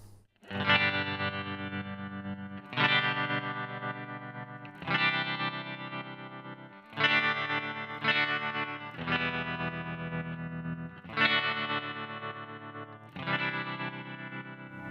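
Distorted electric guitar chords pulsing through an Empress tremolo pedal, the sustained tone chopped into a slow, lopsided halftime rhythmic pattern, with no voices.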